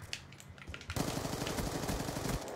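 Rapid gunfire in the shooter game Black Ops 2, a few scattered shots followed by a loud, sustained burst of closely spaced reports lasting well over a second.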